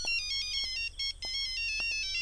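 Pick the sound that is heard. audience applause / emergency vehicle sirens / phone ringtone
phone ringtone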